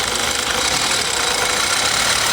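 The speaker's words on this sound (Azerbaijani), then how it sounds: "200 min kilometrdən çox sürülmüş dizel Hyundai Grandeur-dur. Səsə baxın bir dənə." A worn diesel Hyundai Grandeur engine with over 200,000 km idles loud and close, with a rough, clattering knock running steadily throughout.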